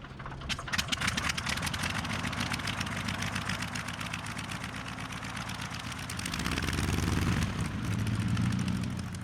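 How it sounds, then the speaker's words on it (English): A heavy gyroscope rotor spins with a steady, close mechanical whir and rapid rattling pulse, continuous throughout and growing a little louder and deeper toward the end, with no voices. "I have here a gyroscope, and inside there's quite a heavy rotor"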